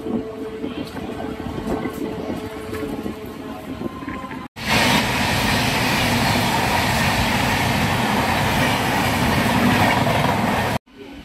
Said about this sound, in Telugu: స్పీడోమీటర్ ప్రకారం మన ట్రైన్ మ్యాక్సిమం ఈ స్పీడ్లో ప్రయాణిస్తోంది